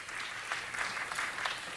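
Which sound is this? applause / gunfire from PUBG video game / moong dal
applause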